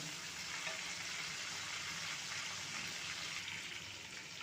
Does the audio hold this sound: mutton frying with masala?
yes